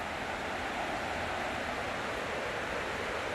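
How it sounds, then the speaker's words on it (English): A river rushes beside Le P'tit Train du Nord trail in the countryside, a steady, even wash of flowing water without pauses or voices. "look how beautiful this river is. Oh, so breathtaking. I could fall asleep to these sounds."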